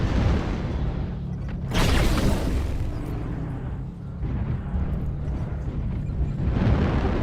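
Airstrike explosions in a mech combat game, a heavy rumbling boom with a sharp burst near the start, followed by sustained low roaring and further muffled impacts.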